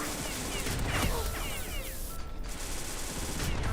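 Sustained machine gun fire in the video game Beyond Citadel, a dense, continuous burst running loud and steady throughout with no pauses.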